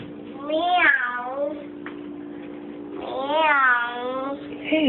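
A child imitating a cat with two drawn-out, whiny meows, close and clear, with a short pause between them and a quiet room behind.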